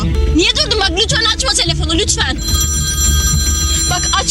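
A telephone rings in a tense indoor drama scene, its steady electronic ring sounding loud and continuous after urgent voices talk over the start.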